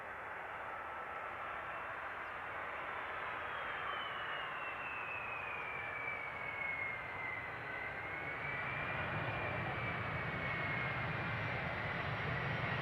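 An airliner on approach to runway 18R at Amsterdam Schiphol Airport, a steady roaring jet engine drone that swells slowly and holds on for the whole span, with no voices.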